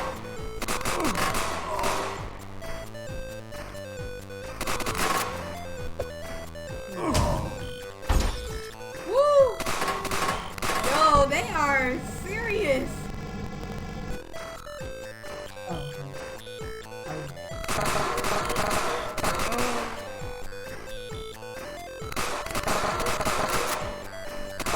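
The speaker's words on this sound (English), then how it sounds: "that's the machine gun" Video game machine gun fire rattles in repeated loud bursts amid game music and effects, with brief pauses between volleys and voices talking at moments.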